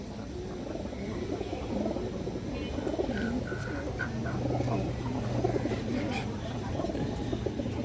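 Pigeons, including a female of a flying line, coo repeatedly in low throaty bursts at close range amid a busy, murmuring loft background.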